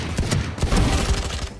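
Sheriff revolver shots in a tactical shooter video game crack out in a quick series of loud, close reports, several sharp bangs in rapid succession with ringing tails between them.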